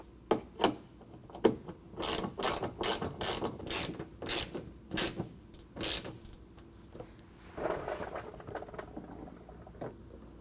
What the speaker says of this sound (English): it can be helpful to use just a Phillips head bit going in place and then turning it with a closed-end wrench